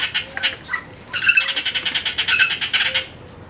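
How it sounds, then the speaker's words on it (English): Tropical birds squawk in a backyard bird garden in the Riviera Maya, a close, harsh series of rapid rhythmic calls with short pauses between bursts. "It's a constant bird show"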